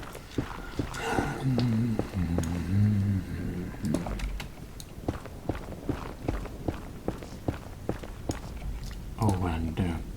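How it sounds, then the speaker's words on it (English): Close, rhythmic gum chewing repeats steadily alongside soft Minecraft footstep clicks, with a voice speaking briefly near the start and end. "would my audience tell me if they prefer chewing gum or if you just really hate it?"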